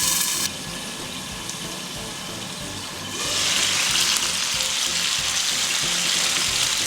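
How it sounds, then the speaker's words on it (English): Water goes into a hot pan of chicken for teriyaki, and a steady sizzle of frying turns into a louder, broad hissing burst of steam that holds close to the end. "You can add 2 tablespoons of water in the pan. This will create steam and help the chicken cook faster."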